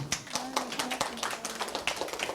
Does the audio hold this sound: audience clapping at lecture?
yes